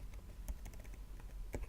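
Quiet clicking keystrokes on a computer keyboard type out a web address in a short, uneven burst of taps.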